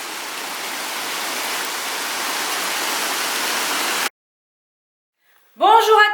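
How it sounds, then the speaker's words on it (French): Heavy rain mixed with hail pours in a dense, steady hiss for about four seconds, then cuts out abruptly; a voice starts speaking shortly after. "Il pleut, il pleut, il pleut."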